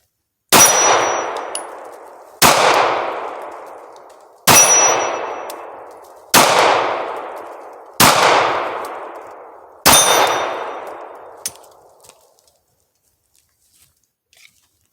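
Six 9mm pistol rounds strike steel targets in a steady series, each a loud, bright metallic clang ringing out and decaying for about two seconds before the next, with no talk.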